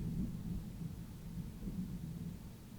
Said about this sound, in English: I just had a burst of thunder.